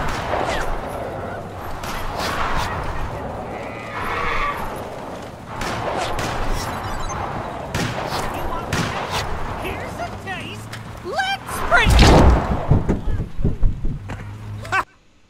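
Sharp gunshots crack repeatedly in the audio-based video game Blind, scattered bursts over a busy backdrop of game sounds and hoofbeat-like clatter, with a cluster of loud shots near the end.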